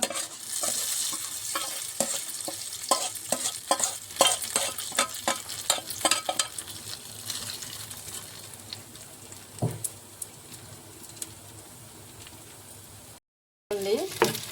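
Hot oil sizzles and crackles as spices are tempered for chutney, with rapid popping and spatters up close, fading toward the end after a brief silence.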